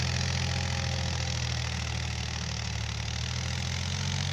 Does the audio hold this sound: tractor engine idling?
yes